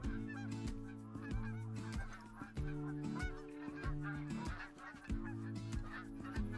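A flock of geese honks in flight, repeated loud overlapping calls in an uneven rhythm that fill the whole stretch outdoors, with no talk.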